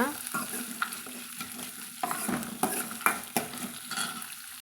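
Black peppercorns and spices roast in a pan, a soft, low sizzle broken by frequent sharp scrapes and clinks of a spatula stirring against the metal, close and without talk.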